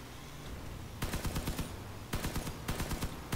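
Rapid bursts of automatic weapon fire in the vehicle combat game Crossout, three quick volleys of tightly spaced shots over a steady background hum, fairly loud and close.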